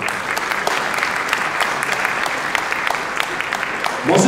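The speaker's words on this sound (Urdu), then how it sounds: "پرزور تالیاں بجائیے گا." Audience at an industrial zone inauguration ceremony applauding, a steady dense patter of many hands clapping throughout, swelling louder in the final moments.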